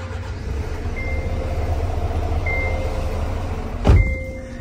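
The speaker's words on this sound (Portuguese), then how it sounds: "Deixa eu ligar o carro aqui, ó." A truck's engine idles nearby with a steady low drone and a faint whine, then a sharp, brief clunk rings out near the end before the idle settles again.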